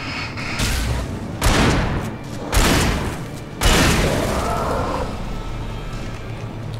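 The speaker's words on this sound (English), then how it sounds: "Pump shotgun for the win" Pump shotgun blasts in the video game Alan Wake, three loud booming shots spaced about a second apart, each trailing into a long rumbling decay over steady background game ambience.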